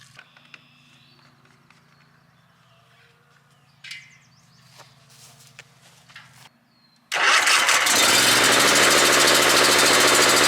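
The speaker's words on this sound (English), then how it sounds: "I'm gonna fuel up the mower and walk her up the hill and start mowing." Quiet clicks, rattles and fumbling come before a lawn mower engine fires up and runs at a loud, steady roar close by for the last few seconds.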